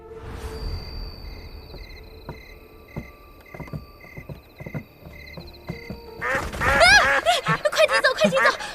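Several ducks by a riverside quack in a loud, rapid, overlapping burst near the end, after a quieter stretch of scattered soft knocks and faint background sounds.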